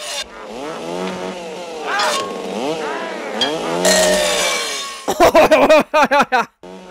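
A chainsaw engine in the 1980 film Motel Hell revs up and down in swooping pitch, then bursts into a series of sharp, choppy revs near the end; loud and close.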